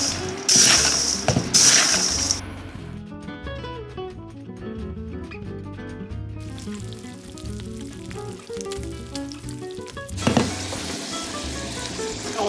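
Cooked sausage is tossed with cornbread stuffing in a hot pan, a loud close sizzle with stirring and scraping, louder bursts at the start and near the end, and no voices.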